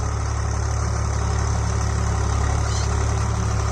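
A Swaraj 735 XT tractor engine idles steadily close by, a constant low diesel rumble with a regular chugging pulse and no voices.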